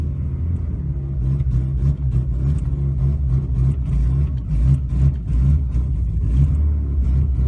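A Nissan N13 Sunny Pulsar engine idles slightly high after a cold start, with a steady, low, slightly uneven rumble and faint rhythmic ticking, close and continuous without speech.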